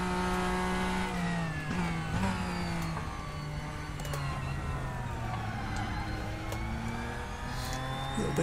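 Porsche 911 RS racing at Daytona International Speedway in the RaceRoom sim: a continuous loud engine note holding high revs, with pitch shifting through gear changes and small throttle lifts.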